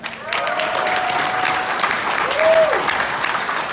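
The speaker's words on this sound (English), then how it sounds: "So big round of applause for them" An audience gives the coaches a big round of applause, a thick, even wash of clapping from many hands that holds steady throughout, with a voice briefly rising above it.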